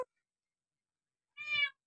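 A cat gives a single short meow, close and clear, after a brief moment of near silence, with a faint click at the start.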